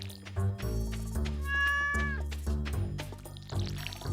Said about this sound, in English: Got the love on the kitty.